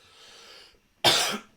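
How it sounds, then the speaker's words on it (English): A single sharp cough bursts out after a soft breathy sound and a brief pause. "Why am I suddenly coughing?"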